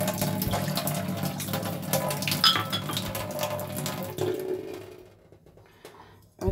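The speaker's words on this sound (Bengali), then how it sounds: "ওই জন্য দুজনের মতো জল নিয়ে নিচ্ছি।" Tap water runs into a container in a home kitchen, a steady close splashing rush with faint clinks of a vessel, easing off near the end before a brief knock.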